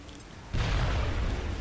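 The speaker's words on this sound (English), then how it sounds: "And now you can throw a grenade." A grenade goes off in the turn-based strategy game XCOM: Enemy Within, a sudden loud blast after a quiet moment that settles into a sustained rumbling roar.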